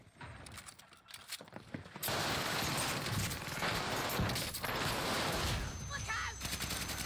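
Heavy gunfire from the video game Call of Duty: Warzone rattles in dense, sustained bursts, with a quieter stretch of scattered shots and faint voices before the barrage.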